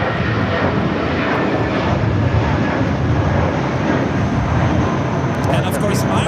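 A Qantas Airbus A380 arriving from Sydney flies its downwind leg at Los Angeles airport, a broad, steady engine rumble and roar holding for the whole stretch without pause.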